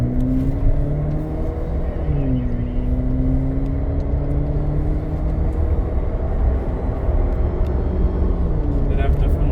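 A GAC GS3 Emzoom R Style with a 1.5-litre turbo engine accelerates at the Kyalami circuit, its engine note droning steadily and rising and dipping in pitch as it shifts, under constant loud road and wind noise.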